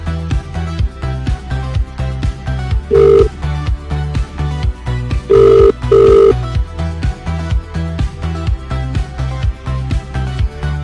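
A telephone rings for an incoming call-in caller on a live radio show, giving three short, bright ring bursts over a steady, rhythmic music bed.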